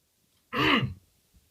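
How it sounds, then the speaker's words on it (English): A single short throat-clearing burst from a man, close and fairly loud, lasting about half a second, followed by quiet. "I had to try and clear my throat there."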